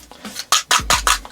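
A Veto TP-XL tool bag pouch holding 1/4-inch drill bits and screwdriver heads is shaken, giving several loud, close rattling bursts in quick succession with no talking.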